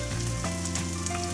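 Sichuan dan dan noodle sauce sizzles and crackles steadily in a hot pan, a close, continuous frying hiss with no talking over it.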